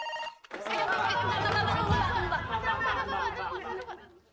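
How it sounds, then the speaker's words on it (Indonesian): A telephone rings for an incoming call in an Indonesian family drama series, a loud, continuous tonal ringtone sounding alone for several seconds after a brief quieter start. "Aku dapat telepon masuk."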